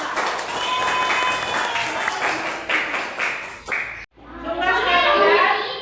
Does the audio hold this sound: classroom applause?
yes